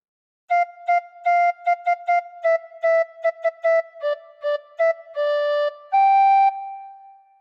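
A tin whistle plays Jingle Bells alone, sounding a quick run of bright, pure, breathy notes in short repeated bursts that end in one longer held tone.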